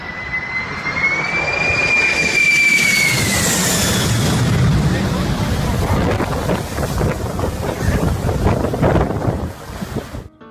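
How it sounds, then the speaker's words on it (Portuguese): A jet roars overhead, its high whine sliding in pitch, then fades into a broad rushing rumble that slowly dies away. "o barulho característico das turbinas de um avião cortando os céus"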